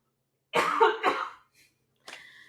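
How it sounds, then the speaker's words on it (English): A person coughs twice in quick succession, then gives a fainter, shorter cough or throat-clear a moment later, close up against silence. "I apologize for my coughing."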